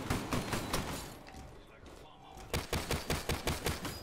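Bursts of gunfire in Call of Duty Zombies on the Gorod Krovi map: a quick string of shots, a short lull, then another rapid volley of evenly spaced shots, fairly faint overall.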